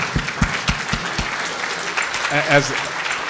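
An audience claps at a graduation-themed talk, steady broadband applause filling the clip, with a few low thumps near the start and a voice speaking over it toward the end.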